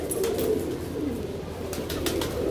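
Pigeons coo steadily in a loft of top-class birds, their low, throaty calls overlapping into a continuous murmur at close range with no talk.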